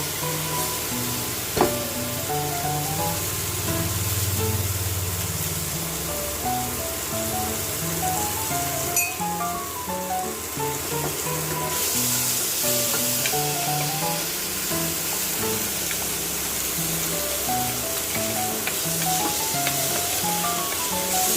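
Ground masala paste sizzling steadily in hot oil with softened onions for mutton curry, a continuous close frying hiss with bubbling and occasional stirring, background music playing throughout.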